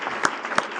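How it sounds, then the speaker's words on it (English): Brief applause from an audience at an association meeting, a short burst of dense clapping heard close and moderately loud, with no talk over it. "let's just give them a brief round of applause and thank them for doing what they do."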